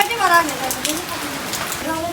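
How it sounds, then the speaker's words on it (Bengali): Rain falls steadily in an all-day downpour, a soft, even patter under a person talking close by. "আজকে সারাদিন এমন বৃষ্টি হচ্ছে দেখেন সারাদিন বৃষ্টি"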